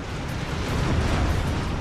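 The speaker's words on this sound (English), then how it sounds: "You can blow this one up." A big cannon blows up in Ratchet & Clank: Up Your Arsenal, a loud, sustained explosive roar that rumbles steadily without pause.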